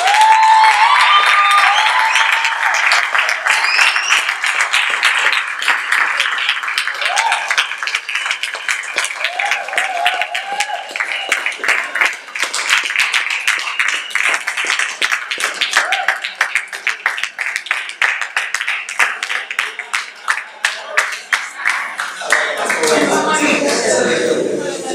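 An audience claps and applauds in a sustained, dense wash of hand claps lasting throughout, loud and close, with a few brief voices mixed in before it fades at the end.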